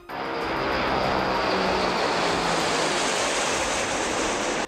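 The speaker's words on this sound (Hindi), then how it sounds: "सिग्नल मिलते ही विमान के इंजन चालू हो गए और इसमें लगे पंखों ने तेजी से घूमना शुरू कर दिया।" Engines of a heavy modified Russian Tu-95 bomber run with propellers spinning at a military airfield, a loud steady roaring drone that swells in and holds for several seconds, then cuts off.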